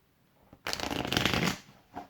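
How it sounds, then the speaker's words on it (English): A deck of tarot cards being shuffled up close, one quick riffling burst lasting about a second, followed by a faint short rustle. "Back shuffle."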